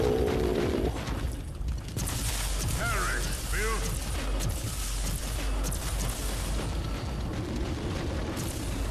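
A grenade goes off in Warhammer 40,000: Inquisitor – Martyr as a long, loud rumbling blast amid ongoing battle noise, with someone talking over it.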